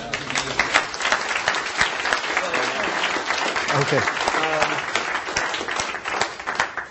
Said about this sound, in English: Like, that round of applause.